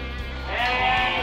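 Sheep bleat loudly and close by during lamb weaning on a farm, a sustained, wavering cry over a low steady background hum.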